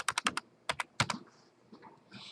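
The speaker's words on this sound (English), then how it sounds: "I'm going to type in my library card number." Typing a library card number on a computer keyboard: a quick burst of four clicky keystrokes, a pause, then a few more sharp taps, close and clear with no talking.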